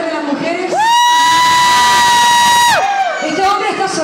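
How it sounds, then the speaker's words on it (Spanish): A crowd of women in a concert audience lets out a loud, sustained high-pitched scream lasting about two seconds, with surrounding cheering and yelling before and after. "El grito, a ver, de las mujeres."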